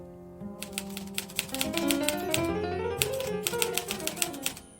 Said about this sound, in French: Et moi je tape.